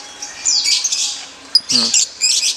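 A lovebird gives sharp squawks and chirps, a couple of close bursts with short pauses between them, over faint background noise.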